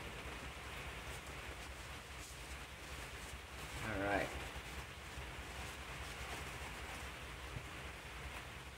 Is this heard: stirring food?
no